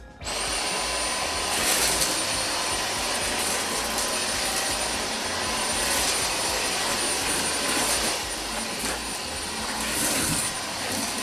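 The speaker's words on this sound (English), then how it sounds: "The Dyson Omni-glide may look like a broom, but it's actually a vacuum cleaner" A Dyson Omni-glide cordless stick vacuum cleaner runs steadily with a high-pitched motor whine and broad airy hiss, loud and close, with slight surges as it moves, picking up cornflakes.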